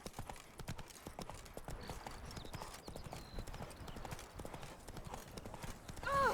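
Horse hooves clip-clop in a steady, brisk rhythm on a town street in the video game The Witcher 3, fairly close. Faint background ambience sits underneath, and a louder sound rises at the very end.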